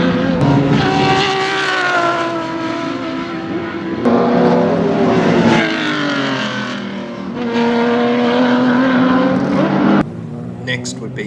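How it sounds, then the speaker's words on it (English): A BMW race car competing at Baskerville race track, its engine loud and revving hard with rising and falling pitch over several gear changes, heard throughout under a commentator's voice. "Phil House was next in his equally awesome sounding BMW"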